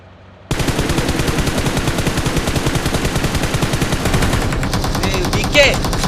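Sustained automatic gunfire in the mobile game PUBG Mobile starts abruptly after a short pause and rattles on in rapid, evenly spaced bursts, loud and close, with game effects over it near the end.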